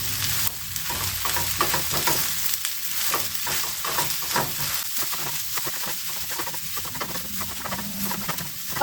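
Gnocchi sear in a hot pan with a steady broadband sizzle, broken by repeated stirring or scraping strokes at a fairly regular rhythm; close and moderately loud, with no talking.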